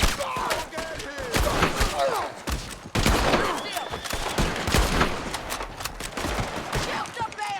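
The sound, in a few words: gunfire in the video game Red Dead Redemption 2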